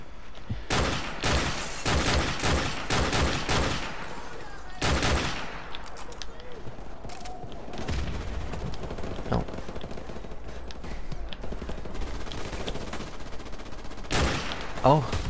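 Gunfire from Call of Duty: Modern Warfare Remastered crackles in rapid bursts and single shots throughout, loud and close, with a player's voice occasionally talking over the shooting.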